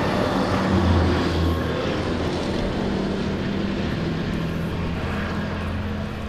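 An FPV combat drone buzzes overhead in the Kursk region, a loud continuous propeller drone that fills the whole stretch without a break, steady and close, with no voices over it.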